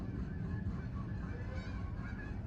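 Geese honk over a loud, constant low rumble, apparently a car engine being run, with the calls blending into the noisy background.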